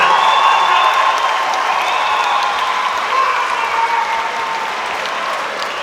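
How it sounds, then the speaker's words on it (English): A crowd at a live boxing event in a hangar applauds loudly for the two fighters after the bout, a steady wash of clapping with scattered cheers that slowly tapers off. "let's give both of these warriors a massive round of applause"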